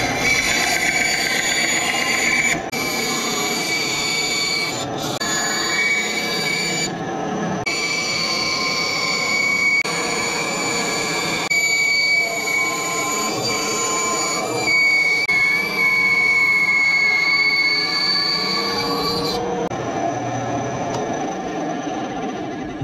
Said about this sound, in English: let's go get this cut out on the bandsaw